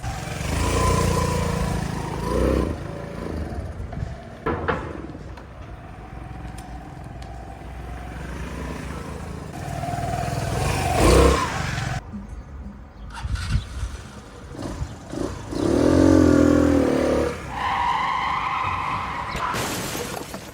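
A restored Piaggio X9 scooter with a swapped 125 to 250 engine starts and runs nearby. It revs up and down unevenly, with rough bursts, rattles and a few loud surges, and no talking.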